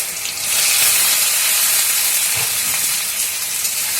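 Taro pieces hitting hot oil tempered with nigella seeds, a loud, steady hissing sizzle that swells and holds close to the pan, with no voices.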